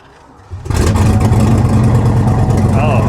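A Mini Cooper S with a 6-speed transmission fires up after a brief crank and settles into a loud, steady engine roar that holds close by, with talk faint underneath.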